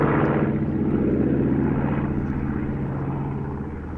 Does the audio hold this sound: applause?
no